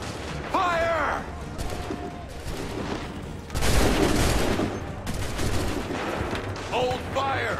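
Soldiers firing a musket volley in the Assassin's Creed III video game, a dense crackling burst of gunfire midway through, loud and close, among shouted voices and battle noise.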